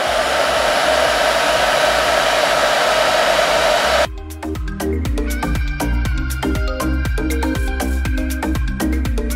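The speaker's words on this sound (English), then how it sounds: "So this is why I love this hair dryer." A hair dryer blows with a steady, loud rushing hiss, then shifts into a lower, uneven whir with clicking, rattling pulses.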